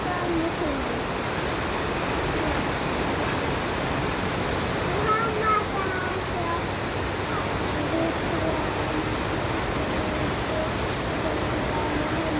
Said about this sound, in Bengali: বৃষ্টি, মজার বৃষ্টি।